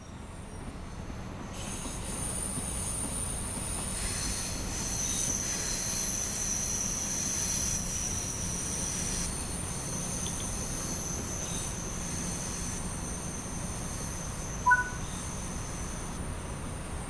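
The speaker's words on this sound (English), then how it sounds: "This particular train is a Class 314 EMU." Class 314 electric multiple unit running in the Train Sim World video game, a steady rolling rumble with a high metallic wheel squeal held throughout, one brief click near the end.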